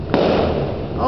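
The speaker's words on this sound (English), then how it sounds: "It's getting disturbed by the firecracker. I hate that firecracker." A single firecracker bursts outdoors with a sharp, loud bang, and its rumble trails off against steady background noise.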